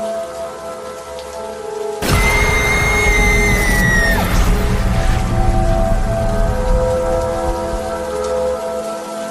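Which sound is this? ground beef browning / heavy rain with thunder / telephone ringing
heavy rain with thunder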